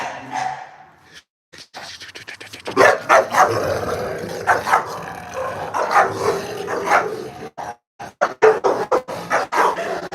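Dogs bark, yip and whimper indoors in repeated sharp bursts with panting between them, loud and close, with occasional talk in the background.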